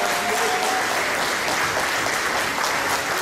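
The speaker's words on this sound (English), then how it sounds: "So give my friends a round of applause." An audience claps steadily throughout at a birthday celebration, a loud, dense wash of applause with no talk over it.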